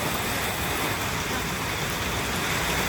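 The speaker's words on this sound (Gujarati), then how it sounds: "કેવો વરસાદ છે બાપા" Heavy monsoon rain pours in a steady, dense hiss outside a room, loud and unbroken throughout with no talking.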